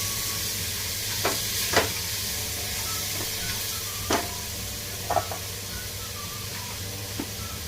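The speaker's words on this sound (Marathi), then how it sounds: "दोन मिनटं सर्व जेवण भाजून घ्यायचे आहेत" Peas and other food roast in a pan, giving a soft, steady sizzle under several sharp scraping and clinking strokes as a utensil stirs the mix at irregular intervals, close up.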